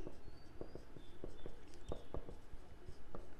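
A pen scratches and taps across paper while maths working is written out, giving a run of quick, irregular close strokes with no speech.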